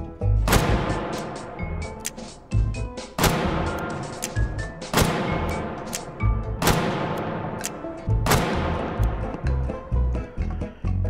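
Smith & Wesson 500 revolver fires jacketed hollow point rounds in the VR shooting game H3VR, five loud booming shots spaced about two seconds apart, each with a long decaying tail.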